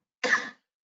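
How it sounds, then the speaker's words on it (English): A single short cough, close and fairly loud, from a man lecturing on big data and Hadoop, heard alone with silence before and after. "I got a little cough"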